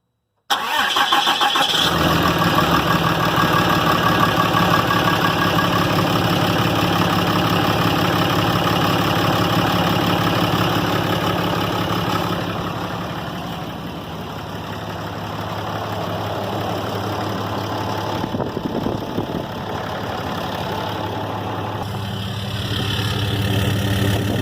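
A 2012 Ram diesel pickup, recently repaired after a failed variable-geometry turbo, cranks and fires up, then settles into a steady, loud, close diesel idle that carries on without any talk.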